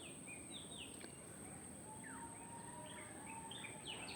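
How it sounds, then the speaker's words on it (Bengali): Birds chirp and call among dense bamboo trees, a scatter of short, high tweets coming and going over a low, steady outdoor hush, faint and somewhat distant throughout. "পাখির কত সুন্দর পাখিগুলো সব ডাকছে"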